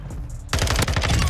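An FSS Hurricane submachine gun in the shooter game Modern Warfare II fires a rapid, loud automatic burst after a short quiet moment, close and punchy.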